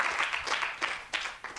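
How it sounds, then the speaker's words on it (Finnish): A TV talk-show studio audience applauds its guests, a bright, dense clapping that swells and dips in uneven waves over a short stretch. "Aplodit vielä teille"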